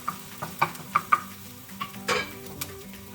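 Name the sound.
onions sizzling while stirred in a pan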